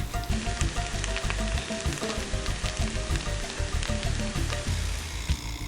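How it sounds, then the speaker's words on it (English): Vegan black bean burger patties fry in a pan with a dense, constant sizzle and crackle, close and loud throughout, with no voices. "we'll go ahead and let them fry for about 5 minutes on either side"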